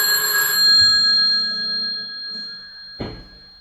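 A telephone rings on stage during an amateur theatre troupe's play in Bry-sur-Marne: one bright, shrill burst of ringing fades into a quiet room, followed by a short knock or handset clatter.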